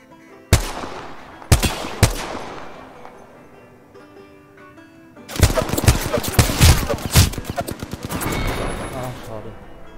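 Gunfire in the battle royale shooter Apex Legends: a few single loud shots early on, then after a pause a dense, close volley of rapid automatic fire with overlapping cracks that gradually thins out.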